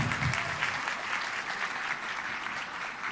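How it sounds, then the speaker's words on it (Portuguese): Many people clap for a speaker after a talk on the future of work, a full, even wash of applause that neither builds nor fades across the short stretch. "Muito mais palmas, por favor"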